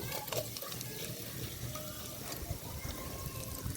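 Cumin, mustard seeds, urad dal and chana dal hit hot oil for a mango dal tempering, giving a continuous close sizzle with scattered pops and crackles throughout the short stretch.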